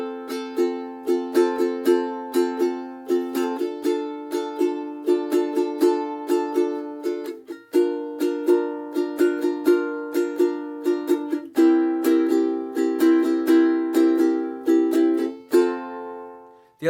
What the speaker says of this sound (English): The other thing you could do is you could play the island strum, which is this. Down, down, up, down, up.